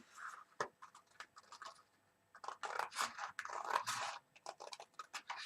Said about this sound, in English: So just cut straight across that score line where you've just cut up to.